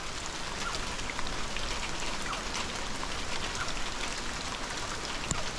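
Steady rain falls on roofed and open animal enclosures, a dense even patter of drops throughout with no voices.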